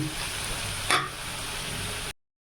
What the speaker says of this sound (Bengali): টমেটো মশলাটা যতক্ষণ না কষানো গন্ধটা চলে যাচ্ছে ততক্ষণ আমি নাড়তে থাকবো